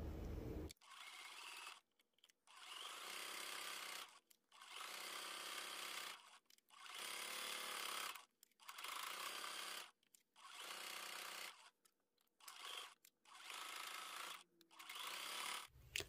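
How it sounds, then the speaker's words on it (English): A sewing machine stitches along a fabric edge for quilt binding. It runs in steady, even bursts of one to two seconds, separated by short pauses, and sounds faint and mechanical with no voices. "We're going to bring this over to the sewing machine and we're going to sew along that edge."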